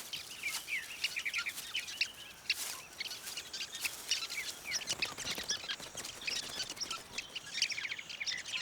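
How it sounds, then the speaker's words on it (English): Sociable weaver birds of the southern African savannah calling in a busy flock, a dense chatter of overlapping chirps and tweets at moderate distance, continuous and fairly faint with no voices. "like sociable weaver birds"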